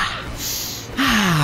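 A sharp gasping inhale, a deep breath drawn close to the microphone, brief and loud, followed by a short voiced sound.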